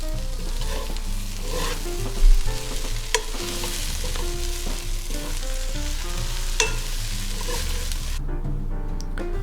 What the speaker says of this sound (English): chuck in your mince and just carefully start to break it up